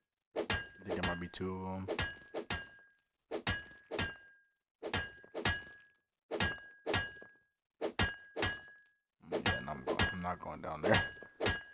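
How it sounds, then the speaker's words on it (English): Players pickaxing a base in Rust on PS5, sharp repeated metallic strikes arriving in clustered bursts with short gaps, heard under a person talking. "hearing these guys like pickaxing in this base"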